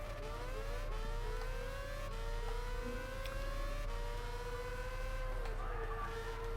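Nissan car engine racing in Gran Turismo 6, a sustained loud engine drone with pitch rising through the gears and dropping at each shift, constant throughout.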